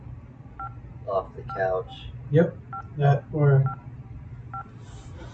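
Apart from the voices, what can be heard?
phone dialing in video game Hold the Phone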